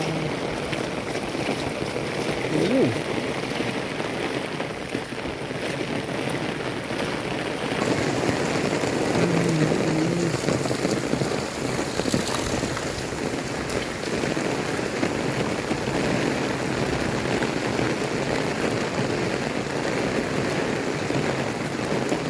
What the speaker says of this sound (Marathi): त्याच्यामुळं मुसळधार ते अति मुसळधार पाऊस चालू आहे.